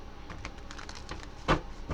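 A quick run of light, crisp clicks and flutters of tarot cards being shuffled close by, with one sharper snap near the end.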